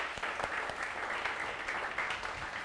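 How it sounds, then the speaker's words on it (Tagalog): Church congregation applauding for Jesus during a Sunday sermon, a steady, fairly faint wash of clapping with scattered sharper claps, no voices over it. "The best mong palakpak para kay Jesus."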